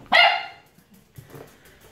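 A small dog inside a house gives one sharp, loud bark up close, then a fainter short yip or whimper after a pause.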